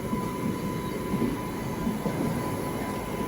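Trains roll past at the MGR Chennai Central coach maintenance centre, a steady, close rumble of rail wagons with a faint, constant tonal whine throughout.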